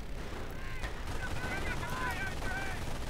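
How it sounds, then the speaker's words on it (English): Bursts of .30 cal machine gun fire in a World War II strategy video game, rapid crackling volleys mixed with distant battle noise and a faint tonal whine, steady and moderately loud. "Actually, I think it's a 30 cal, by the way it sounds."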